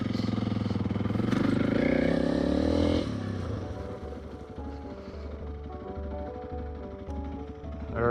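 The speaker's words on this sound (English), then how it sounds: "you're supposed to skid until you come to a stop, and then you can put your foot down" A Honda CRF300L motorcycle brakes hard and skids to a stop: a loud engine drone at first, then it drops to a lower, rumbling idle with some clatter, close by.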